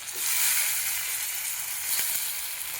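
Tomatoes added to fried onion sizzle loudly and steadily in a pan, a dense close hiss with one faint clink near the end and no voices.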